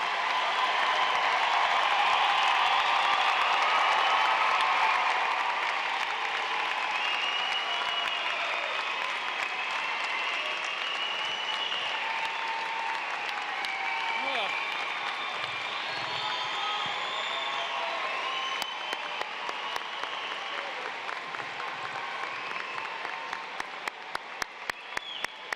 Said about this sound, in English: Please give a round of applause for our Rocky Mountain High School graduates.